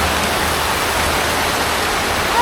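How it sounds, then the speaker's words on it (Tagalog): Heavy rain pours steadily and loudly throughout, a dense unbroken hiss during a motorcycle ride near Santa Ignacia, with no talk over it. "Malakas yung ulan, wala kaming dalang kapote."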